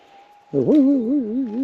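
A steady electronic hum from a metal detector hunting gold nuggets in Arizona sits under a low, wavering warble that swells in and keeps pulsing up and down.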